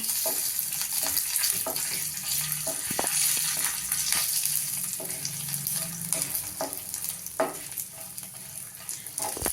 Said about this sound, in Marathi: थोडीशी हरभरा एक चमचा हरभऱ्याची डाळ घेतलेली आहे ती पण आपण तेलावर परतून घेणार आहोत